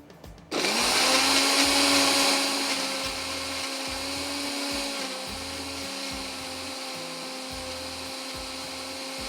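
Kitchen blender whirring as it grinds spice paste for butter jalfrezi, a loud steady motor whine that starts abruptly and settles slightly lower, running alone throughout.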